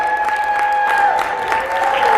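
Audience at a personal-development conference clapping steadily and loudly, a dense wash of applause with a tonal hum running through it.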